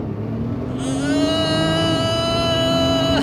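Sports car engine pulling hard under acceleration, rising from a rumbling drone into a loud, climbing multi-toned roar that holds steady and near, no voices.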